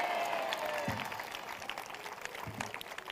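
Worshippers at a prophetic prayer service clapping in thanksgiving, a soft, fairly distant patter of applause running throughout, with a faint voice and a few low thumps under it.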